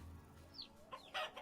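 Chickens in the video game Vintage Story cluck a few times, with short, fairly faint squawking calls over a low background hum.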